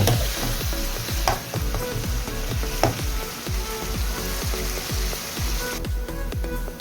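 Turmeric, red chili and mixed masala fry in oil in a pan for a dried baim fish shutki bhuna, a loud continuous sizzle with rhythmic scraping strokes of stirring throughout.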